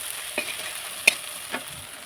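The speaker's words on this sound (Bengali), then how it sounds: "এবারে আমি ধনে জিরে বাটা দিয়ে দিলাম নাড়তে থাকবো" Coriander-cumin paste frying with softened onions in a pan makes a soft, steady sizzle, broken by a few close scraping strokes of a stirring spoon, with no voices.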